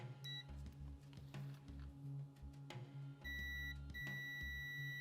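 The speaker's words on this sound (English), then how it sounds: "I'm going to put this in continuity mode, or it beeps when I touch the probes together." A digital multimeter in continuity mode, probing a shorted capacitor on a damaged laptop board, gives two steady electronic beep tones of about a second each, close and clear over a low electrical hum and light handling noise.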